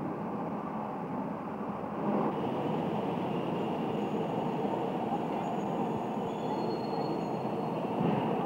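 The Rheingold, a modern European passenger train, runs along its rails with a steady loud rumble and roar, a faint high wheel squeal drifting through, heard alone without speech.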